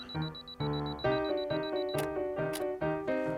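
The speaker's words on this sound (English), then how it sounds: "Let's turn the timer off first." Camera self-timer counting down on a cheap Russian film camera outdoors in a rainy forest: a steady high beep tone over a series of buzzy whirring tones that step in and out, with two brief clicks.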